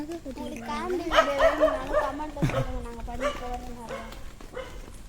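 A lost dog barks and yips in short repeated bursts, mixed with whimpering whines, close by, while people talk over it.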